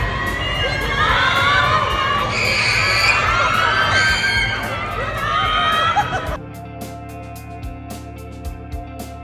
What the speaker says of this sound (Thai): ด้อมใจฟูที่ตะโกนให้กำลังใจบอกว่า เดินให้ดูด้วย